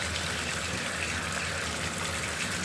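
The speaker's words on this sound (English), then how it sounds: "I'm going to flow that hot water, as much water pressure as I can get. And I'm going to flow that hot water through the pivot." Hot tap water runs at full pressure into a bathtub and over the pivot of a knife, giving a constant loud rushing gush throughout with no voices.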